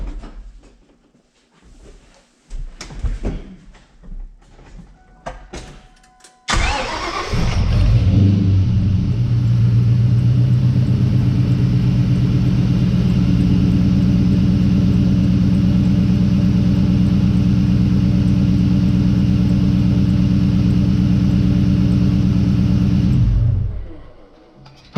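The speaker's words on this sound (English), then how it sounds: "Let me start it and see if it's still making that squeak noise." A Saleen S281 Mustang, a New Edge model being checked for a belt or pulley squeak, starts with a sudden loud crank and catch, then settles into a steady, close, rumbling idle that runs evenly for about sixteen seconds before cutting off. Quieter rustling and movement precede the start.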